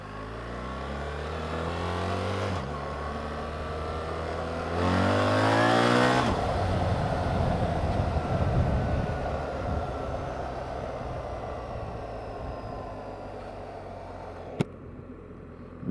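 BMW GS motorcycle in road mode on a test ride, engine drone rising in pitch as it accelerates through gears, steady loud wind and engine roar throughout, one brief click near the end, no talking.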